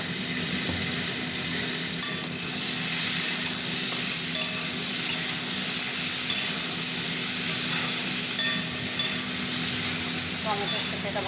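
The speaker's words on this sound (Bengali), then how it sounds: "টমেটোর সাথে এটা ভাজা ভাজা হবে" Turmeric and chili powder frying with tomato for a bhola fish curry with potato and eggplant, a loud continuous sizzle with stirring underneath.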